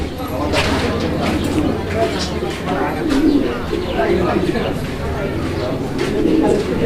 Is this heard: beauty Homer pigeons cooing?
yes